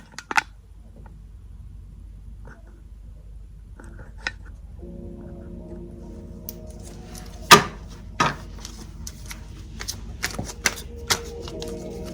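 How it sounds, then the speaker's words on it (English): Tarot cards being handled and shuffled nearby, with a few quiet riffles and taps early on, then a run of crisp card shuffling and snapping sounds that grows busier toward the end, with no talking. "Let's get these other cards out."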